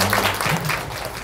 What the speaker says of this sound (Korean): 30년 만에 한국으로 돌아오신 윌 더틀 박사님을 큰 박수로 환영해 주시기 바랍니다.